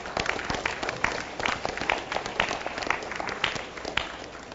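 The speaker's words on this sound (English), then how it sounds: "Ladies and gentlemen, please join me congratulating all the finals on their successful debate with a round of" Audience applause after a high school English debate final in Gwangju: sustained, fairly even clapping from a room of listeners, with no voices over it.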